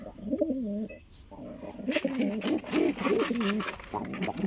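Pigeons in a loft, among them a black pied bird, coo in low warbling rolls, several overlapping calls close up with brief pauses.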